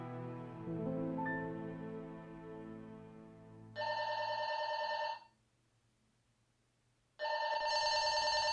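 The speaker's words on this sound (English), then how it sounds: "Mom! Phone!" Telephone rings in a home with an electronic double-burst pattern, two loud bursts separated by a pause, following soft indistinct household sound.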